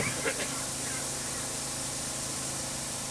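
Crop sprayer nozzles in a field spraying trial give a continuous, loud, broad hissing rush of spray with a low engine rumble underneath, steady throughout.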